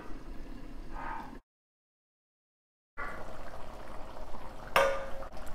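Tomato rice simmering in a pot as its water boils down and reduces, a steady soft bubbling hiss with a brief gap of silence and a short sharper burst near the end.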